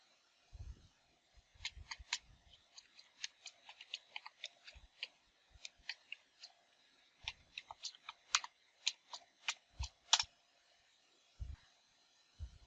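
Quiet, close keystrokes on a computer keyboard while a URL is typed, with irregular bursts of crisp clicks, short pauses between groups, and a few soft low thumps.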